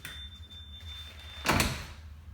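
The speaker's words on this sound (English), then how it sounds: "Close this door." A car door on a Lotus Elise swings shut with a single soft thunk over a faint background hum, with no talking.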